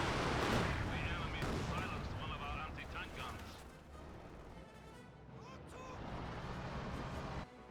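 An artillery barrage in the Company of Heroes 2 war game: dense, overlapping booms and blasts rumble loudly at first, then thin into scattered distant thuds with a faint tail.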